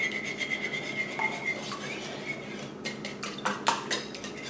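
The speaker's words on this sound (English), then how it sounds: "just going to very gently whisk this together" A whisk moves gently through quiche filling in a bowl, making soft, steady scraping and clinking strokes against the sides. The strokes are close and moderately quiet, with no talking.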